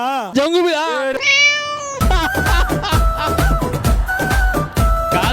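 A cat meows a few times up close, its cries rising and falling, then loud talking and busy background sound take over.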